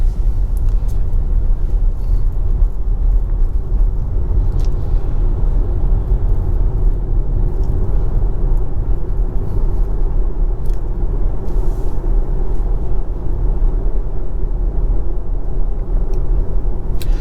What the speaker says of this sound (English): So again, the car is pulling away by itself.